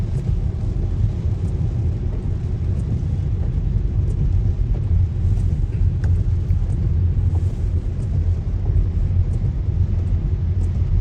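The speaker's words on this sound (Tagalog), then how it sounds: "Sisimula na ang traffic." Steady low road rumble of traffic getting under way in San Diego during bad, rainy weather, with cars passing continuously at a distance and no talking.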